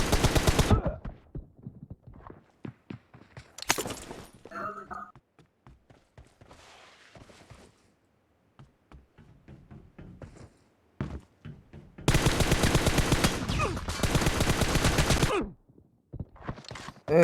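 Assault rifles in a PUBG 1v2 match fire bursts and long sustained automatic volleys, loud and close, separated by gaps filled with scattered thuds and quieter in-game sounds.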